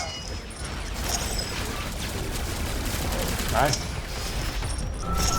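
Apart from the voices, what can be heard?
gunfire in the video game Alienation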